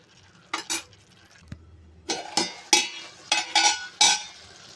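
A spoon stirs beetroot chutney with curry leaves in a metal pan, making a series of sharp scraping clinks in uneven strokes, close and clear with no talking.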